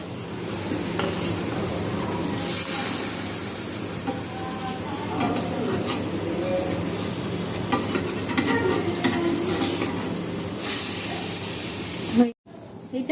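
Pancake batter fries in a pan, giving a soft, continuous sizzle with faint stirring and scraping sounds, followed by a short drop near the end.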